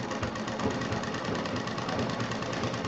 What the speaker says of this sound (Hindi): कपड़ों को दोनों तरफ दाहिने बाएं खींचते हुए, ताकि सारी टेंशन जितनी भी हो वो नीचे जाए और कपड़ा सीधा सिलाई जाए।